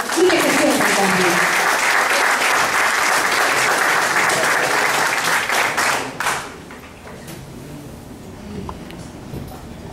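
Audience applause at a storytelling event, a dense loud burst of clapping that runs for about six seconds, then cuts away to a quiet room.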